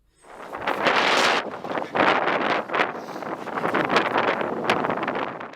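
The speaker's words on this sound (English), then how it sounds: "the wind was blowing like crazy" Strong wind sweeps across a frozen lake, buffeting the microphone in loud, roaring gusts that surge, drop briefly and surge again, with no voices.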